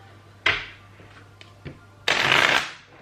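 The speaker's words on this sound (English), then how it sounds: "I'm just going to do a couple more just to make sure it's shuffled." Tarot cards are shuffled close up, a short riffle followed by a few light taps and clicks, then a louder, longer riffle burst near the end, with no talking.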